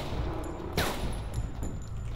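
Gunfire in a retro-style first-person shooter horror game, a dense burst of shots with one sharp loud report near the middle over a constant rumbling game mix.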